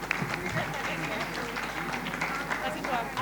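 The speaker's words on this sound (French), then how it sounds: "On applaudit les deux équipes" Audience applause for two girls' and boys' high school teams at the end of a televised quiz match in Côte d'Ivoire, a dense steady clapping filling the whole stretch with crowd noise beneath.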